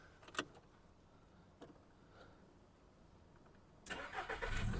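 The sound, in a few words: Volkswagen Golf Plus 1.6 MPI 2007 engine starting and idling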